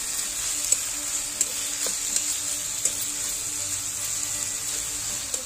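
Green chillies are stirred with oil into a sprouted chickpea curry in a pan, a steady, even sizzle with faint scraping stirs and light ticks throughout.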